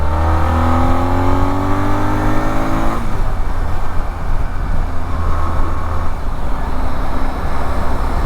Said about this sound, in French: Je viens de faire juste une petite accélération en 3.